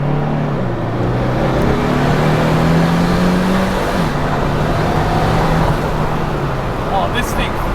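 A twin-turbo Datsun 240Z pulls hard in second gear, its engine note climbing loudly and steadily from inside the car before easing briefly near the midpoint and carrying on, with voices talking over it.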